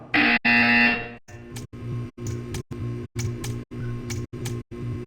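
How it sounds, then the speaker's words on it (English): A harsh electronic buzzer in the video game Portal 2 sounds loudly for about a second, then a series of shorter repeated mechanical pulses follows in a regular rhythm. "You will hear a buzzer."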